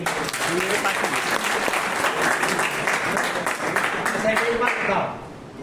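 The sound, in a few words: audience clapping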